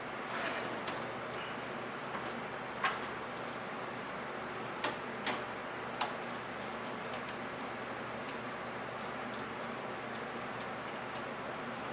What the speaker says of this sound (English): I'm going to unscrew it.